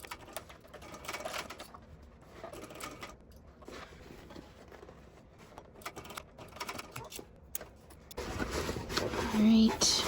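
Sewing machine stitching a seam on a Windsor bag, a rapid mechanical clatter running in bursts, close up, with a louder, denser burst near the end.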